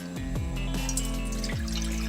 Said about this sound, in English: Put 3 cups of water inside, boil this with several anchovy and kelps for 15 minutes.